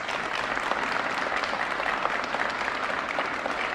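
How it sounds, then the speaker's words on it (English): A room full of people claps steadily for several seconds at an Illinois State Police announcement on fighting violent crime in East St. Louis, a dense, even patter with no pauses. "Let's give them a round of applause, please."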